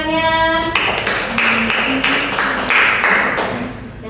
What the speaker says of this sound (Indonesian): Kita tepuk tangannya.